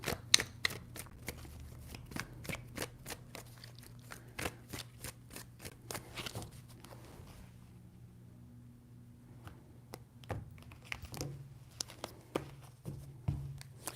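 Tarot cards shuffled in a quiet room, a series of sharp crisp riffles and taps in irregular bursts, fairly faint and close, with no voices.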